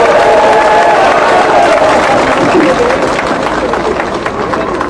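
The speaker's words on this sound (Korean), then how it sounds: "여러분 뜨거운 함성과 박수 부탁드립니다" Loud crowd cheering and applause at an outdoor political rally for a party leader during an election campaign, a dense continuous roar of voices and clapping filling the whole stretch, with shouting mixed in.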